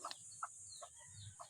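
Rooster being put into a cage, giving a few short, faint clucks spaced across a brief moment, heard close with little else around.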